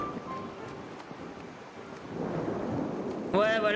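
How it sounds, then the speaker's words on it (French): A thunderstorm in Disney Dreamlight Valley: steady rain and wind build into a louder rumble, ending with a sudden bright burst at the close. "ça intensifie l'orage, j'adore."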